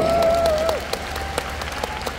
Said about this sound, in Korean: 우리 두 분께 박수 한 번만 부탁드릴게요.